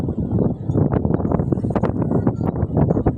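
Strong gusty wind blowing outdoors during a thunderstorm, buffeting the microphone in a continuous loud rumbling roar with rapid fluttering bursts.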